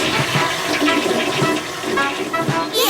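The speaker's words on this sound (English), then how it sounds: "Have you flushed?" A toilet flushes with a steady rush of swirling water that runs loud and close for about three seconds, ending in a brief higher hiss.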